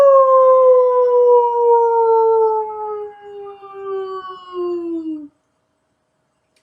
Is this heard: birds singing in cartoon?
no